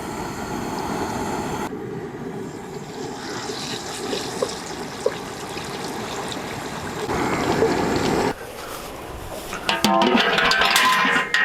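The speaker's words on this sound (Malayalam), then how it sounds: "ചിക്കൻ ഒന്ന് വറുത്തെടുക്കാം." Pieces of chicken coated in chilli powder, salt and cornflour fry in hot oil with a steady, bubbling sizzle that swells louder toward the end.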